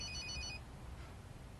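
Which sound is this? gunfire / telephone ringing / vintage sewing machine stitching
telephone ringing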